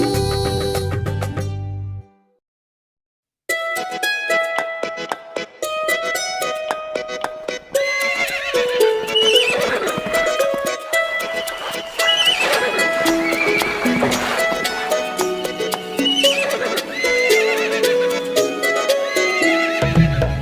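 A horse neighs and its hooves clip-clop over bright, busy music in a Hindi children's rhyme. The sounds run loudly, break for a short silence early on, then carry on to the end.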